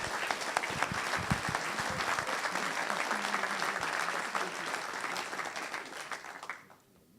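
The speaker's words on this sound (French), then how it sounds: "Sous vos applaudissements, mesdames et messieurs," Audience at an awards evening for entrepreneurs applauding trophy winners, a dense, sustained round of clapping from a large crowd that holds steady and then fades out near the end.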